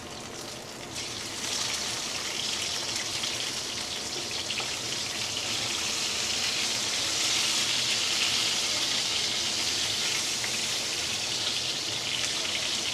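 Surmai (seer fish) pieces fry in a pan in a village-style kitchen, giving a steady dense hiss and crackle of hot oil that holds evenly throughout, with no voices.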